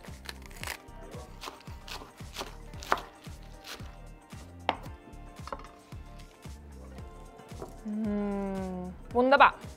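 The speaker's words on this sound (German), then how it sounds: "Und der Salat, den schneide ich einfach in Streifen." Crisp fresh lettuce being cut into strips with a knife, giving a steady series of close, crunchy chops with brief pauses, followed near the end by a louder rustle.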